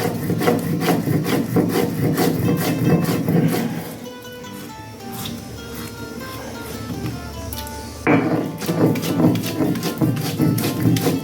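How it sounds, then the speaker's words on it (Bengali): Hand grinding of paste with salt on a stone shil nora slab, a steady rhythmic rubbing and scraping of stone on stone that is loud and close, pausing briefly midway before resuming. "পেস্ট করে নেব বেটে নেব শিল নোড়াতে বেটে নেব"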